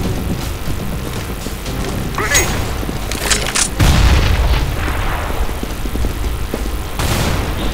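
A loud booming grenade explosion in CS:GO erupts near the middle, followed by a long rumbling tail amid scattered gunfire and game ambience.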